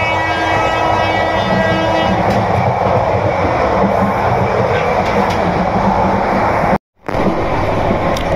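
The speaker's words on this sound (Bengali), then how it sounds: "75+ স্পিডে ট্রেন যাচ্ছে।" A train running at over 75 speed, its loud steady rumble and rail noise continuous and close, briefly cut off near the end, with faint voices beneath.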